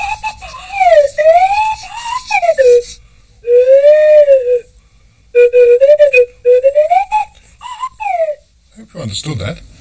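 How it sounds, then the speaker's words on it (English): Swanee whistle playing Major Clanger's low-register whistle, a run of sliding, swooping tones in short phrases separated by brief pauses, close and loud, with a noisy burst at the end. "This is Major Clanger's whistle."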